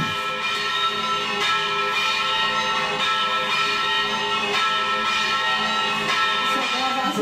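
Church bells ring continuously in São João del Rei, a dense, shimmering wash of overlapping bell tones that stays loud and steady throughout without pause.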